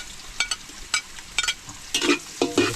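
Onion frying in a pan for a native tilapia dish with tomatoes, a broad sizzle broken by several sharp stirring scrapes and clinks of a utensil against the pan, close and fairly loud, with no talk.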